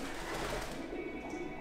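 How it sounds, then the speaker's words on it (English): Pigeons coo and flutter faintly inside the roof of an abandoned factory, a soft continuous murmur of birds over a steady hollow room hum with no talking. "I love pigeons, but they scare me sometimes in abandoned places."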